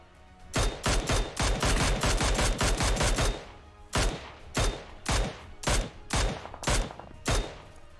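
A Glacier Mini-14 rifle fires in a mobile battle-royale shooter game. A long, rapid string of loud, close shots comes first, then a slower run of separate, evenly spaced single shots, with no talking.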